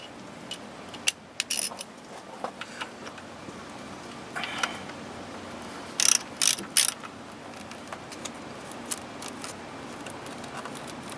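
A pocket ratchet wrench with a 10 mm socket turns bolts during valve cover work on a 2011 Nissan Altima 2.5 SL, faint close clicking bursts and short rapid ratchet runs over low background hum.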